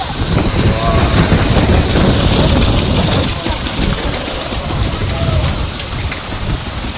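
Heavy rain driven by gusty wind pours steadily at a hilltop shrine of Baba Dhabaleswar during a Kalbaishakhi storm, a dense continuous roar of drops on surfaces close by, with faint speech underneath.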